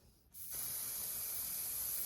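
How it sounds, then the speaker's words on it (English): Sephora airbrush foundation sprays onto a face as a soft, continuous hiss that starts after a brief pause and holds steadily to the end. "So I'm gonna spray again."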